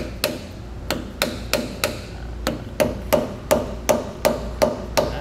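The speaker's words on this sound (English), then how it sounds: "take a dead blow hammer." Dead blow hammer striking a trailer hub bearing race, about fourteen evenly spaced sharp taps in a steady rhythm, close and loud with no talking.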